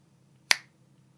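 A single crisp finger snap rings out sharply and close in an otherwise quiet room, decaying quickly.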